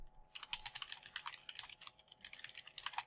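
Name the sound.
typing text on a computer keyboard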